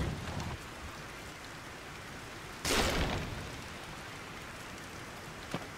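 Rain falls in Zelda: Tears of the Kingdom as a steady, soft hiss of drops on surfaces, with one louder rushing swell midway and a faint click near the end.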